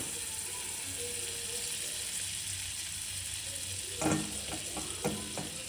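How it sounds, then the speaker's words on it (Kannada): Amul butter melts and sizzles in a kadai with a soft, steady hiss. A few light stirring clinks come near the end, with no talking. "ಈಗ ನೋಡಿ, ಅಮೂಲ್ ಬಟರ್ ಹಾಕ್ಕೋತಾ ಇದ್ದೀನಿ."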